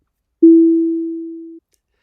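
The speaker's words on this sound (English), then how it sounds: "I made the sound decay with each cycle of the sine wave, and it sounds exactly like the" A synthesized sine-wave tone, resembling an aeroplane cabin chime, sounds once, loud and pure, then steadily decays over about a second before cutting off in silence.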